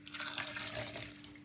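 A short stretch of water pours and splashes steadily into a blender jar, with a faint low hum underneath.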